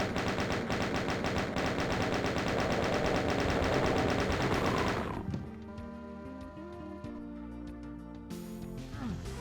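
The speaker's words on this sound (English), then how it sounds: "So I am going to use the chain gun here" In the video game Doom Eviternity II, a chain gun fires in a rapid, continuous stream of loud bursts for about five seconds, then stops. Quieter game sounds and roars follow in the background.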